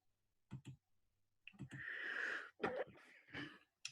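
Several short, sharp coughs from a person with a cold come in bursts with brief pauses between them, close and fairly loud, with no talking.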